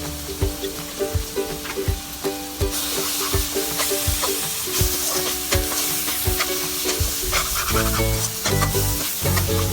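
Turmeric, chili powder and garam masala fry in a pan for a spicy shark thokku while a spoon stirs and scrapes in a steady rhythm. The sizzle is close and continuous and grows louder partway through, with no one talking.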